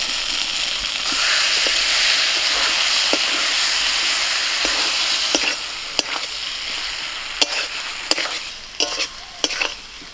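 Fried potatoes stirred in oily spice paste for palak mutton, a steady loud sizzle and hiss with scattered scrapes and clinks of the spoon against the pan, no voices.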